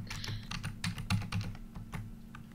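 Rapid, uneven keystrokes on a computer keyboard with a faulty up arrow key, heard up close during a Minecraft session, clustered clicks and taps over a low steady hum with no talking.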